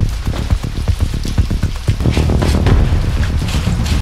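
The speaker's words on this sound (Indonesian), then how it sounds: "Tiba-tiba hujan turun" Steady rain patters on surfaces in a dense, continuous hiss of close drops, fairly loud and unbroken, with no voices.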